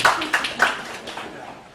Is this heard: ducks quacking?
no